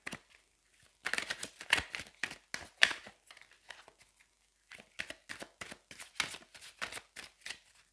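Tarot cards being drawn and handled, a string of soft close papery shuffles and flicks in irregular bursts with a pause partway, quiet and with no talking.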